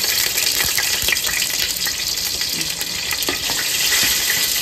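Spices and green chillies frying in hot oil for Hyderabadi haleem, a steady close sizzle with occasional sharp crackles and spoon scrapes, no voices.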